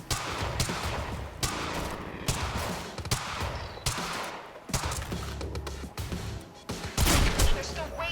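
Rapid bursts of gunfire in the video game Quantum Break, loud and repeated in clusters with heavy impacts, a voice in the background.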